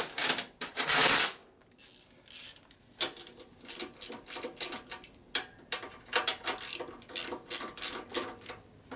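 A ratchet wrench loosens half-inch pinch bolts on a 1965 Harley-Davidson panhead FLH motorcycle, producing close, rhythmic bursts of metallic clicking in quick repeated strokes with brief pauses between them.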